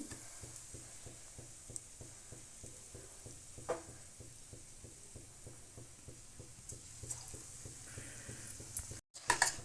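Potato bonda batter balls frying in hot oil give a steady, soft sizzle with faint rhythmic ticking and small crackles throughout, and a brief clatter near the end.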